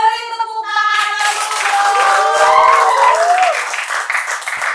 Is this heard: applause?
yes